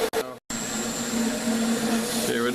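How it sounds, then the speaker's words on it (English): A big leaf maple scoop spins on a wood lathe while being sanded, a steady whirring hum with a faint abrasive hiss after a brief stop-start at the beginning. "I'm going to finish sanding it now."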